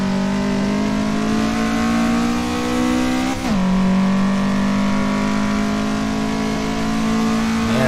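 A 1990s Japanese sports car's engine drones at high revs around the Nordschleife in the racing game Assetto Corsa, holding a steady loud pitch, dipping briefly with a gear change, then climbing again, with no talking.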